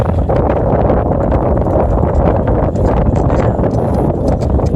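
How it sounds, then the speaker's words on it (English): Strong wind buffeting the microphone during a horseback ride toward the mountains, a loud continuous roaring rumble with gusty fluctuations and no clear voices. "The wind is blowing right in our face."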